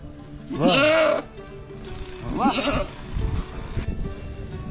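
Goats at a livestock market in the city of Mithi give two loud, wavering bleats close by, with crowd noise and voices talking underneath throughout.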